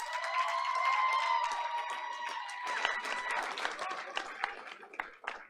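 Audience applause for the Pacific Pirates at a Board of Education meeting, steady clapping from a crowd that thins out toward the end, with some voices mixed in.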